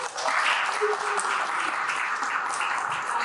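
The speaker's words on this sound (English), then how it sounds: "A round of applause for that." Audience applause at a community event, a steady wash of many hands clapping at moderate volume, with no voices on top.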